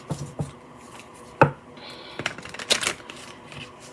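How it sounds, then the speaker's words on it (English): Soft papery riffling and tapping of playing cards being shuffled, irregular clicks and flutters close by. "These cards feel like they don't want to shuffle today."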